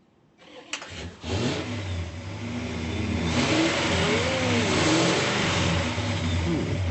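A powerful car engine at a local spotlight event in Joliet cranks, catches and fires up, then revs and roars steadily, loud and close with no talk over it.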